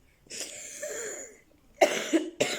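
A woman coughs several times in a row indoors, the coughs harsh and close, the later ones in short sharp bursts.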